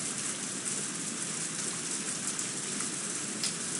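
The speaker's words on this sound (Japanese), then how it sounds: "急にすごい雨が。" Sudden heavy rain in the Higurashi Onikakushi video game, a dense, steady broadband downpour that hisses continuously and evenly throughout, with no voices over it.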